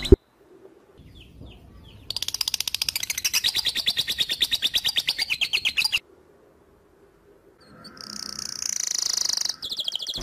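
Recorded master birdsong, played to train a magpie robin, comes through as a loud run of rapid repeated chirps, then a pause, then a shorter burst of high whistling song.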